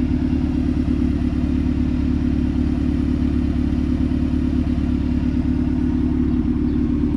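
A Honda K-swapped car idles high on a cold start, giving a steady, loud, close rumbling drone with a fast, even pulsing beat and no talk.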